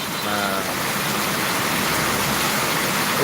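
Heavy rain pours steadily as a dense, continuous wash of noise close by, with a brief voice near the start.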